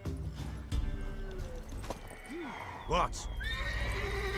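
A mare neighs in The Witcher 3, a rising whinny with hooves clopping around it, heard over game music and voices, with one short spoken word in the middle.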